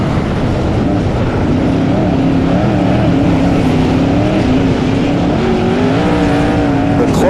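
Sprint car engines roaring during a BOSS Series race, a loud, steady drone of several cars with pitch shifting as they accelerate around the track, under a race announcer's commentary.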